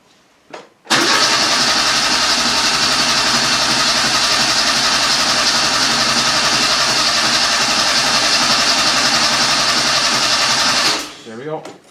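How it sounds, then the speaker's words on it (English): An Opel Kadett engine cranks continuously without catching, coil lead removed, a steady rapid churning of the starter for about ten seconds before stopping. "I like to take off the coil lead and crank the car until it gets oil pressure."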